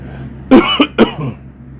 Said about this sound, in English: I'm finna cough because I had to cough.